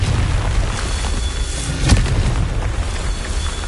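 Confringo blasting curse in Hogwarts Legacy, a loud, deep rumbling explosion with a sharp burst near the middle, set over a constant heavy low roar of game sound.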